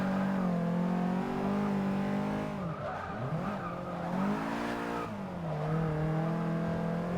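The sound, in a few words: racing car engine in Forza Motorsport 6 video game, transmission trouble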